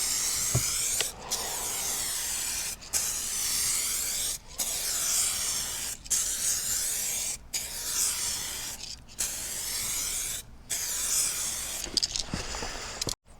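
An aerosol clear coat hisses in repeated short sprays across a restored headlight, about eight steady passes separated by brief gaps, close and alone.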